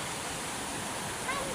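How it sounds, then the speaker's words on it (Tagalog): A waterfall in a rural provincial spot roars as a dense, steady rush of falling water that fills the whole clip, loud and unbroken. "May falls doon sa taas."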